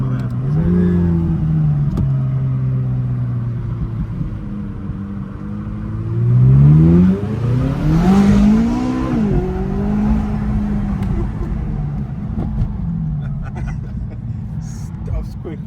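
A McLaren 570S Coupe supercar engine hums and rises into a loud rev around the middle, then settles back to a steady idle. Nearby voices talk over much of it.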